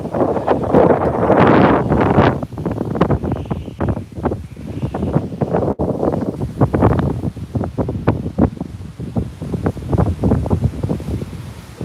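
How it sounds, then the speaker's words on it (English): Strong hurricane wind from Hurricane Helene in southwest Florida buffets the microphone in heavy, continuous gusts, roaring and rumbling with bursts of louder blasts throughout. "it's pretty windy"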